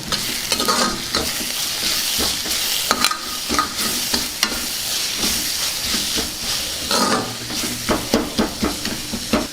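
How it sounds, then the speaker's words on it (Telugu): Mint rice masala with turmeric and salt sizzles loudly in a hot pan, with frequent sharp scrapes and clacks of a spoon stirring it close by. "పచ్చివాసన పోయేంత వరకు వేయించుకున్నాం కదా"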